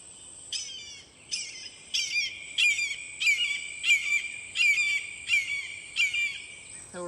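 Recorded call of a native bird played back: a series of about eight repeated sharp, harmonic screeching calls at a steady rhythm, loud and clear with no talking.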